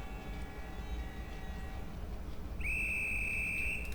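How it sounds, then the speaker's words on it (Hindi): An Alco diesel locomotive hauls the Hapa–Madgaon train with blue ICF coaches in the MSTS simulator, with a low steady rumble under a long, loud, sustained horn that starts partway through and holds to the end. "हापा मडगांव करके एक ट्रेन भी यहाँ से क्रॉस हो रही है अल्को लोकोमोटिव के साथ"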